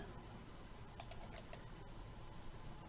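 Computer keyboard keys pressed as Blender modeling shortcuts, a few quiet clicks in a short cluster near the middle over a low background hum.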